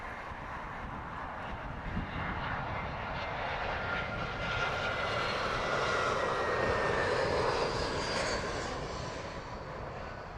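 Boeing 787 Dreamliner inbound from Shanghai on approach to Heathrow Airport, a broad, steady engine roar that swells gradually as it passes overhead, loud and continuous with no voices.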